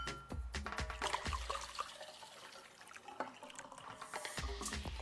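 Water poured into a drinking glass, filled about three-quarters full for a shaving cream rain cloud jar experiment; a steady close-up splashing and trickling that runs throughout, with a few sharper knocks near the start.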